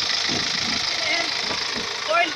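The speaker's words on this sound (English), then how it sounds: "Normally blow by, engine blow by." Car engine with a blow-by fault running steadily nearby, a continuous rough mechanical drone with faint rhythmic knocking, with a brief louder surge near the end.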